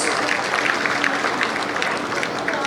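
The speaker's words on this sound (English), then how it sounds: "A round of applause." Steady applause from attendees at a stakeholders meeting in Imo, Nigeria, a dense wash of clapping filling the hall throughout.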